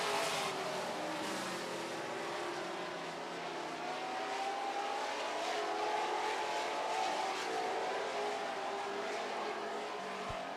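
Super Stock race cars circle a racetrack in a heat, their engines droning and whining together from some distance, rising and falling as the pack passes, a continuous roar without talk.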